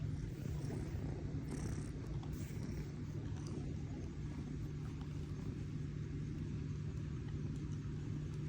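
A cat purring loudly and steadily, a continuous close rumble with no talk over it.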